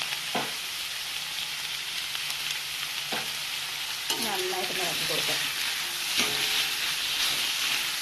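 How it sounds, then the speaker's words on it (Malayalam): Chopped onion sautéing in a pan with salt and turmeric for a potato masala curry, giving a steady bright sizzle throughout, broken by occasional close spoon scrapes and stirring. "ഇപ്പോൾ നമ്മൾ സവാള വഴറ്റിയാണ്"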